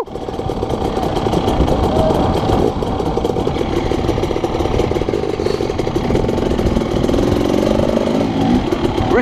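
A Husqvarna 300 two-stroke dirt bike on a trail ride at Mt Sugarloaf, NSW, with a loud, close, continuous rattling engine note that rises and falls with throttle changes throughout.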